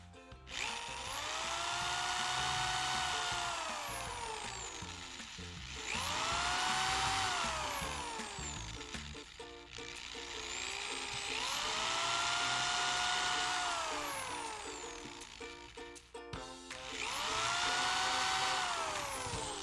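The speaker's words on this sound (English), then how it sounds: "then you could drill your holes with your drill" An electric drill boring holes in a wooden board for a homemade coffee pour-over stand, four loud whining bursts with rising then falling pitch as each hole is cut, close up and alone.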